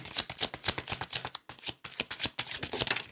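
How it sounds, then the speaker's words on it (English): Tarot cards riffled and shuffled in a deck during a reading, a close, dense run of crisp flapping bursts with a brief pause midway, loud and alone. "I'm going to pull 3 more cards"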